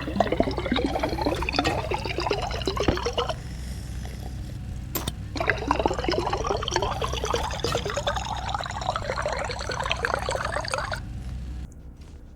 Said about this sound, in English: And now we can even refill our bottles.